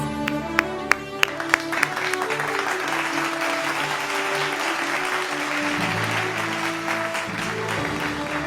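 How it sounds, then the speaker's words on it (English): Sustained audience applause fills an awards ceremony hall celebrating a science incubator's twentieth anniversary, steady and dense throughout, with a few sharp hits early on and background music or hum underneath. "A warm welcome and a big round of applause."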